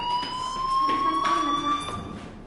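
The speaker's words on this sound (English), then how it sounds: "do you hear that fire alarm? That means you should be outside." A fire alarm sounds as a steady high electronic tone, moderately loud and continuous throughout, with faint background noise and brief muffled bumps underneath.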